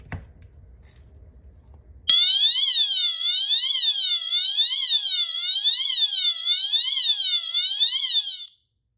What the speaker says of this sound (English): now we set the alarm onto Siren